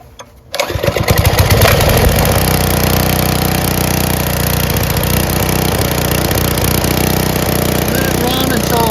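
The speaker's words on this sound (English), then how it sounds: "So I'm going to do the fuel shut off, start it up, run it until the gas is depleted from the carburetor." A Briggs & Stratton Intek 6HP small engine starts up and then runs steadily with its fuel shut off, a loud continuous mechanical drone that holds from about half a second to the end with no talking.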